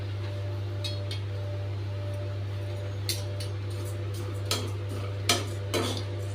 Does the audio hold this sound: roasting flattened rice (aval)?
yes